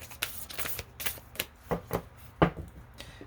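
A deck of Whispers of Love oracle cards being shuffled by hand, a run of crisp, close riffling bursts at an uneven rhythm, fairly quiet and with no voices.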